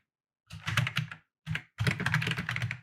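Computer keyboard typed in short bursts as a command is entered in a terminal, close and clear, three quick runs of keystrokes separated by brief pauses.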